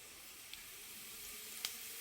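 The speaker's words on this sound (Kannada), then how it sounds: "ಸಾಸಿವೆ ಸಿಡಿತಾ ಇದೆ." Mustard and cumin seeds sizzle in hot oil in a pan while upma is being prepared, a quiet steady frying hiss broken by two faint pops.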